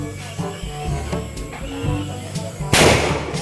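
A lantaka bamboo cannon fires during Philippine New Year celebrations, giving one loud, close booming blast late in the clip over a steady din of festive noise and people talking.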